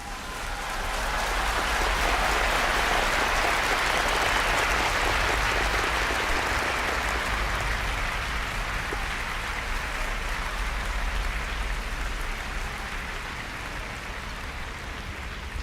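A livestream audience claps, a sustained wash of applause that rises quickly, holds dense and steady for several seconds, then slowly thins.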